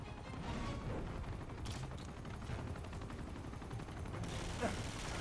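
Rapid bursts of gunfire at a helicopter in the video game Uncharted 2 crackle continuously against a noisy background, with a few sharper shots standing out.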